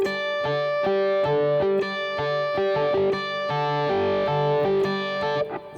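Electric guitar strumming a rhythm of sustained chords without palm muting or squeeze-and-release, harmonics ringing with a steady pulse of repeated strums, close and loud, with no talking.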